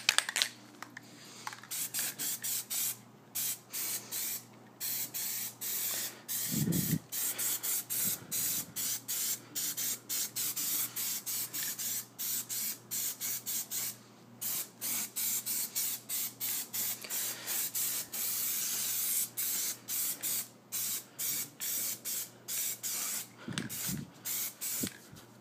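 White Plasti Dip hisses from a spray can onto a 2013 Subaru STI Limited rim in steady bursts of close, continuous spray, with brief pauses between passes.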